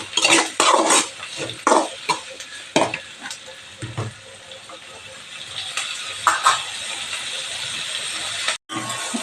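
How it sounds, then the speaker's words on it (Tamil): Chopped tomato sautéed with garlic and onion in a pan for a cluster bean poriyal: repeated scraping stirs and clatters over a steady sizzle, fairly close and loud. "அதில் தக்காளியும் போட்டு நல்லா வதக்கி விட்டுடலாம்."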